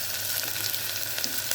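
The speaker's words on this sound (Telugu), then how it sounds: "పక్కకు పెట్టేసి వెంటనే తాలింపు వేసేస్తున్నాను" Tempering spices sizzling in hot oil for Telugu-style sambar, a steady bright hiss of frying with faint pops and crackles, close and continuous with no talk.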